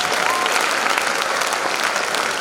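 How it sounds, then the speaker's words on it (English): Audience applause at a school spring concert for a 4th and 5th grade band and orchestra, a steady dense wash of many hands clapping at close range, sustained evenly throughout with no talk. "Give them a big round of applause."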